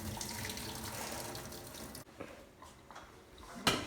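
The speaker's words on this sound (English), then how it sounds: "So I'm gonna pour the water off" Water is poured off boiled potatoes in a home kitchen: a steady, moderately quiet gush and splash that runs for a couple of seconds, eases off, then ends with a brief louder splash.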